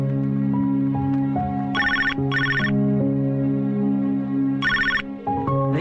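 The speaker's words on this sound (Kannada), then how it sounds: "ಇನ್ನೂ ರಿಂಗ್ ಆಗ್ತಾನೆ ಇದೆ." A telephone ringing in a Kannada film scene, with repeated bright ring bursts sounding over a sustained tonal melody.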